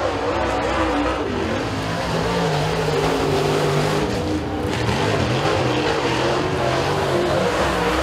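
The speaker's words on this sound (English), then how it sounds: "Number four star, Douglas Eck, he's coming around for his first lap" A super late model race car laps the speedway during time trials, its engine a steady, fairly loud drone that holds for the whole stretch with no talk over it.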